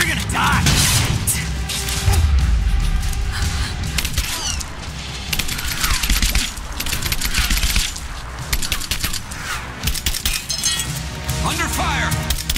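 Gunfire in Rise of the Tomb Raider, in the Gulag area, rattles in dense, loud bursts that run almost without pause, with clinks and crashes in among the shots and a voice speaking over them.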